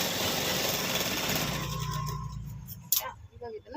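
A sewing machine stitching a velvet blouse, running in a fast, steady mechanical chatter at close range that slows and stops partway through, followed by a few handling knocks.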